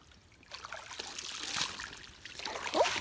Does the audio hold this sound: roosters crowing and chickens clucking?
no